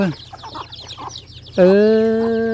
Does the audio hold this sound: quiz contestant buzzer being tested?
no